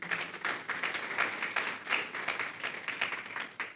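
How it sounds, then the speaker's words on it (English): A crowd applauding, fairly distant and thin, with a steady patter of many hands clapping continuously throughout. "Let's give them a round of applause, guys."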